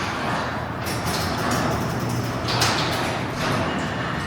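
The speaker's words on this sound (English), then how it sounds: "Let's see if the garage door opens." A garage door without an opener at a Las Vegas house rolls open with a loud, continuous rumble. Rattling clanks break through the rumble at several points along the way.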